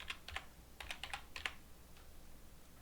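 Light typing on a computer keyboard, several quick clusters of soft key taps close by, fairly faint, with no voices.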